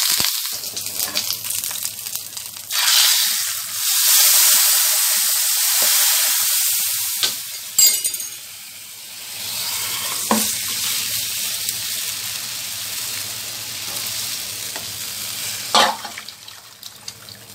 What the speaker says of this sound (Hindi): अदरक लहसुन, इसको डार्क ब्राउन होने तक फ्राई कर लेंगे। अब इसमें डालेंगे करी पत्ता